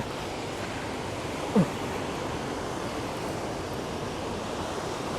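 Water rushes from an open gate of the Ubol Ratana dam in Khon Kaen, Thailand, as a steady, loud, broadband roar like surf. It continues without a break, with one brief sharp blip near the start.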